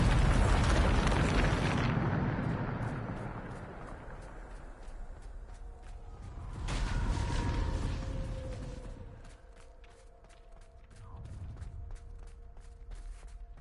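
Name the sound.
explosion from Bombarda spell in Harry Potter video game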